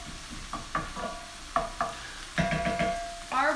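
Pineapple fried rice sizzles in a hot pan as it is stirred, with repeated scraping strokes of a utensil over a constant frying hiss, heard up close and without talk.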